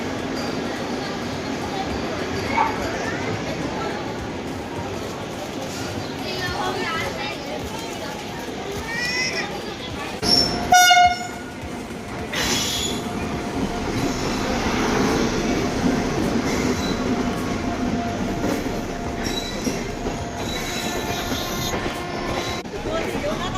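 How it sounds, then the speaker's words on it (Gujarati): A Vande Bharat express train bound for Katra idles and moves at Ambala junction with rumbling wheels and a brief sharp horn or squeal midway, while people talk nearby. "આ વંદે ભારત આ પણ વૈષ્ણોદેવી કટરા જાય છે"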